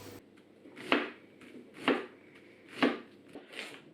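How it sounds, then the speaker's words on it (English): A knife slicing through a carrot on a cutting board for a vegetable trivet under roast belly pork, four evenly spaced crisp thunks about a second apart, close and clear with no speech. "Slice the carrot."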